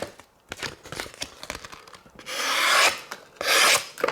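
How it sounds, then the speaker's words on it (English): A sharp cleaver cuts through a small paper booklet, making light scattered taps and then two longer rasping, tearing strokes of blade through paper, close and clear with no talk. "Let's cut through our little booklet here."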